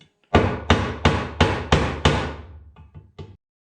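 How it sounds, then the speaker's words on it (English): Six firm hammer blows on a wood block, tapping an engine seal into place in a steady rhythm, each with a sharp woody thud and short ring, followed by a few lighter taps. "take a piece of wood and then just kind of hammer that thing down on there"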